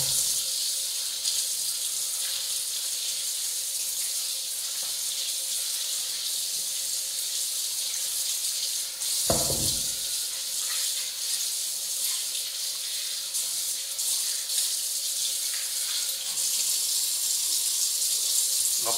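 Freshly harvested table beetroots rinsed under a running tap, a steady close hiss of flowing water lasting throughout, with a brief louder splash or knock near the middle.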